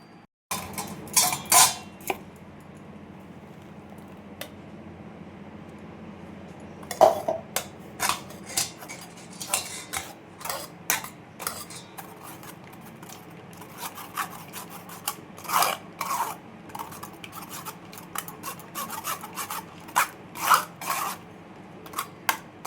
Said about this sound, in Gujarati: આને આપણે એક બાઉલમાં ગાળી લઈએ